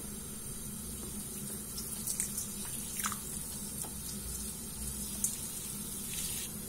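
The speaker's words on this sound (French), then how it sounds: "Et on va mettre de l'eau chaude dessus." Hot water pours steadily from a tap or kettle over rice vermicelli in a salad bowl; a continuous close splashing rush with faint drips throughout, no voices.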